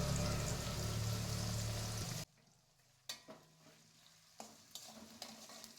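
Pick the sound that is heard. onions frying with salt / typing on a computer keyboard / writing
onions frying with salt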